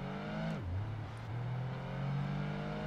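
Mitsubishi 3000 GT engine in a racing video game, a steady close hum that drops in pitch at a gear change and then climbs again under acceleration.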